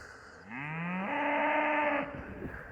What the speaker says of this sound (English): There's our small herd of beef cows there.